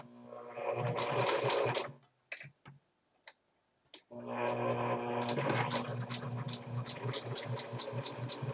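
A sewing machine stitches around a fitted cloth diaper in two close bursts of rapid ticking whir, broken by a short pause with a few isolated clicks and knocks.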